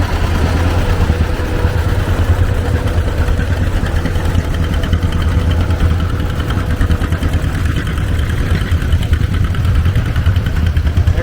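An antique John Deere 620 tractor engine runs at a tractor show and parade, a steady, loud low rumble with continuous mechanical chatter and no talking.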